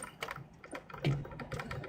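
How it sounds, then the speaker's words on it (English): Rapid, vigorous typing on a computer keyboard, a dense run of close clicks and taps at steady loudness with no talk, as heard over a call from someone riding in a car's passenger seat. "it sounds like you're typing vigorously"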